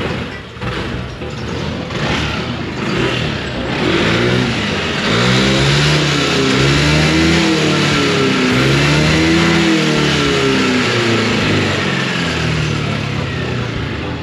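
A Yamaha NMAX Old scooter engine, in need of service and smoking slightly, idles and then revs up repeatedly in rising and falling surges, close and loud, with no talking.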